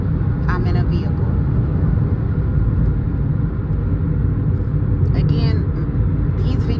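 A low, steady rumble fills the interior of a moving vehicle. It stays constant and loud throughout, and a voice speaks over it.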